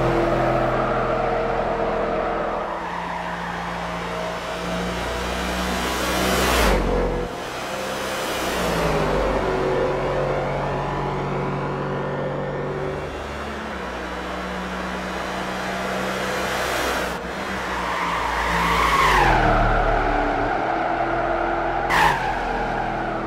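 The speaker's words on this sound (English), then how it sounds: "today we are doing a test lap with 2009 McLaren Mercedes SLR from Gran Turismo 5 and we're running at the Indianapolis Super Speedway" Game engine and tire noise from a stock 2009 McLaren Mercedes SLR lapping Indianapolis Super Speedway in Gran Turismo 5, a steady loud drone with several sharp sweeps and tire squeals as it passes through turns.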